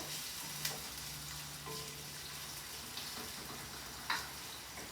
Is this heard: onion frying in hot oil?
yes